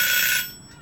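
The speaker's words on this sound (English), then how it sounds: "And my alarm went off" A timer alarm sounds loud and shrill for about half a second, then cuts off, leaving quiet room tone.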